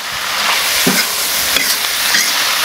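Beef stir-frying in a wok for a home-style small fried beef dish, a steady loud sizzle with scraping stirring strokes throughout.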